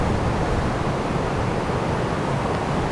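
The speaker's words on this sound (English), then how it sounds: "Here, just listening to the water, listening to the waterfall, nice and peaceful." Ocqueoc Falls in Millersburg, Michigan, a waterfall that pours with a continuous, loud, broadband rushing roar, steady and unbroken, heard close by.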